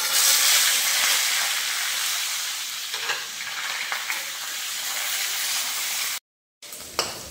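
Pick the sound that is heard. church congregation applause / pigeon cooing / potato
potato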